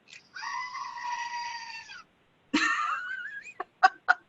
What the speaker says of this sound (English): Screaming Goat, please take it away.